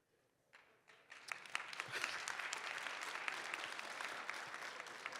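An audience at a Dell-hosted AI bootcamp breaks into applause that starts faint, quickly swells and holds as dense, steady clapping from many hands in a hall, with no talking over it.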